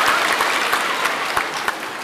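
A school debate audience claps for the timekeeper, dense applause at full strength from start to end, close and steady.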